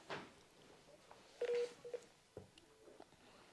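Telephone dialing to call back during a girls' pajama night, a few quiet keypad tones, one clear beep among soft handling noises and faint background sound.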